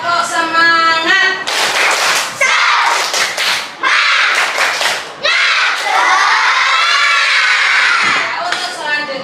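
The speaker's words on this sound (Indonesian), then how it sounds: "Mari kita tepuk semangat" Schoolchildren in an Indonesian classroom chant and clap the tepuk semangat cheer together, loud shouted group voices with bursts of rhythmic clapping.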